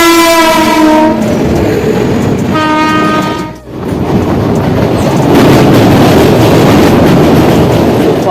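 A locomotive heading off to couple onto the Danapur–Jogbani Intercity Express sounds two long, loud horn blasts, then rolls on with continuous rumbling and clattering rail noise close by.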